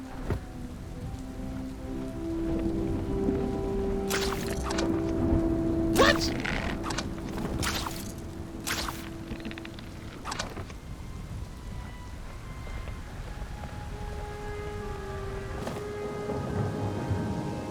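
Rain patters steadily in the Smalland video game while several sharp thunder cracks strike in quick succession partway through, followed by lingering rumbles and scattered game tones beneath.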